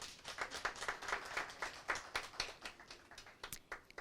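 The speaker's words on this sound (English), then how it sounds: "Can we have another round of applause, please?" Applause from a debate audience, with scattered, distinct claps in a loose irregular rhythm, fairly faint and distant, as if a modest crowd is clapping in a hall.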